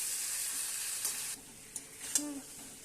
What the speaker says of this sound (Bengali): ভেজে রাখা আলুটা দিয়ে আবার একটু কিছুক্ষণ কষিয়ে নেব